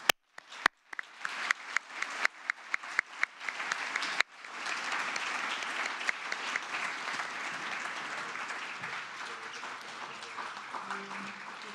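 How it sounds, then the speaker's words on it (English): Audience applause for panelists after a panel discussion, opening with scattered individual claps that quickly swell into a dense, sustained round of clapping from a large crowd. "So let's put our hands together and show our warm appreciation."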